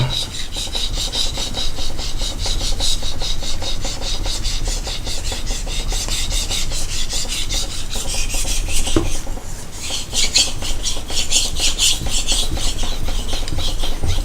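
Continuous close scraping of a steel knife blade on a Japanese natural whetstone, steady back-and-forth rasping strokes with a brief pause midway.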